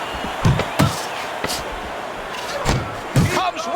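Boxing punches land in Fight Night Champion, a handful of sharp thudding impacts in quick pairs amid crowd noise and running commentary from announcers.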